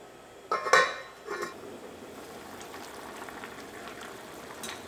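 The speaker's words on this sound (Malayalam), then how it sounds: "ഇപ്പോൾ കറി നന്നായിട്ടൊന്ന് തിളച്ചിട്ടുണ്ട്." A pot of dried prawn and mango curry boiling, with a couple of sharp clinks near the start followed by a steady, soft bubbling hiss that continues on its own.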